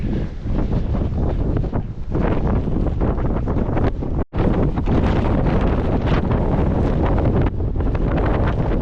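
Strong coastal wind buffets the microphone during a long run along the shore, a dense, continuous roar with one brief dropout midway and no talking.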